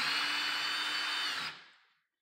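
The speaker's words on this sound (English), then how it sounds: "I'm going to drill here." Power drill boring holes to mount a ceiling fan remote holder, a steady loud whir running for about a second and a half before spinning down and fading out.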